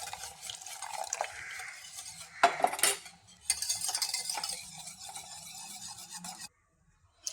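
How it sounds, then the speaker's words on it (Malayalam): Egg and milk batter is whisked in a bowl with a utensil, producing quick scraping and clinking strokes in uneven bursts, briefly louder midway, then stopping near the end. "കട്ട കെട്ടാതെ കുറേശ്ശെ ഒഴിച്ച് മിക്സ് ചെയ്യാം."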